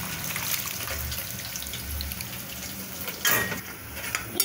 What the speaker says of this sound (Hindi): जो गोभी थी इसका पानी हम छान लेंगे।